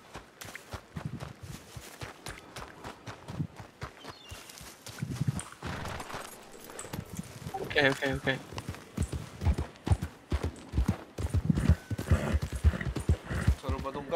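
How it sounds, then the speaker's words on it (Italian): Horse hooves clip-clopping in an irregular walking rhythm, close by, with a few heavier stamps, while people talk over them. "Non gira il cavallo!"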